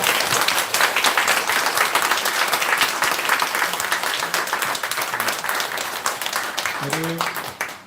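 Audience applauding at an indoor lecture on North Korean human rights, dense sustained clapping that fades gradually, with a brief voice near the end.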